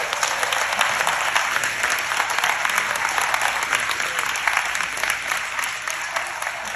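A large crowd claps continuously and loudly, steady applause without pause throughout.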